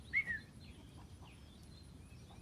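A few soft clucks from mixed-breed hens in a large flock and a brief higher chirp over low outdoor rumble, fairly faint and scattered.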